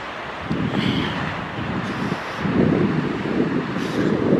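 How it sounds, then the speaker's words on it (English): Cold Arctic wind gusting outdoors on a winter day, a loud rushing roar against the microphone that swells and eases in waves, with no voices. "That wind brought in the Arctic breeze."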